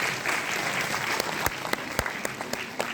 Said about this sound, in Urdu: ایک بار تالیوں کی دیں.